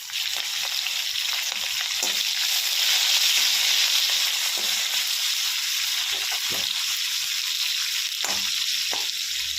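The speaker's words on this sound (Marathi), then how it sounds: "मस्त मिरच्या टाकणार आहोत आपण इथे आणि मिरच्या छान तेलात फ्राय करायच्या आहेत" Green chilies frying in hot oil with cumin and plenty of asafoetida, giving a steady, close sizzle throughout with faint stirring clicks.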